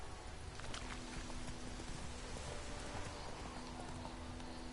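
Hooves of Roach, the horse in The Witcher video game, trotting in a steady clip-clop rhythm, faint and low in level under a hissing backdrop, with a voice present.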